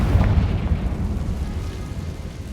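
A Confringo fire spell bursts in Hogwarts Legacy, a loud low booming blast in the catacombs with a dense rumbling body that rolls on steadily without fading.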